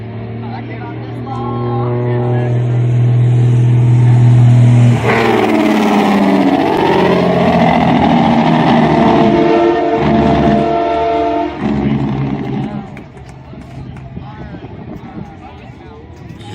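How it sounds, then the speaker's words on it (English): A truck's engine brake at a jake brake contest sounds a loud, sustained harmonic growl. It shifts pitch as the truck passes, then fades, with crowd or commentary noise in the background. "You get to see more dynamic engine braking"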